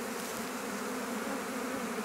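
Honeybees buzz inside a hive on Ometepe Island, Nicaragua, a dense, steady drone that fills the whole stretch with no talk.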